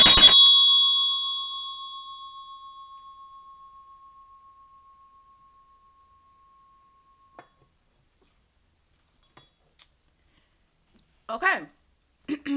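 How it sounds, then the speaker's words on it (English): A single bell struck once to clear the energy, ringing out bright and clear with a long tone that slowly fades to silence, followed by a few faint clicks and brief speech. "we're going to go ahead and ring the bell"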